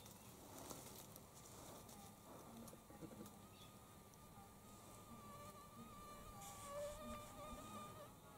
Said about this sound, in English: I can hear mosquitoes and the odd blowfly.